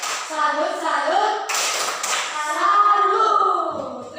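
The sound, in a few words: class doing rhythmic tepuk salut clapping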